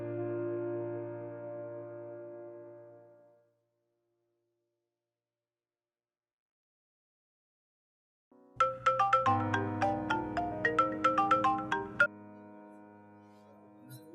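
A mobile phone ringtone plays a bright, repeating melodic tune up close, starting after a quiet gap that follows a sustained musical tone in a Pakistani home drama scene, with no talking over it.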